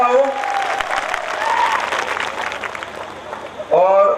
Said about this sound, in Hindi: तो जोरदार तालियां पहले होनी चाहिए